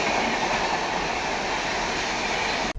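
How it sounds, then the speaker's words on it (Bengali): The Rajdhani Express speeds through Dalkhola without stopping, a loud, close, continuous rumble and roar of wheels on rails that cuts off abruptly at the end. "রাজধানী এক্সপ্রেস যাচ্ছে ডালখোলা দিয়ে"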